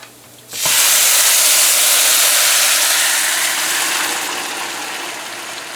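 Six cups of water with three cups of long grain white rice coming up to a boil in a pot, a loud steady hissing, bubbling rush that begins abruptly and slowly eases, with no talk.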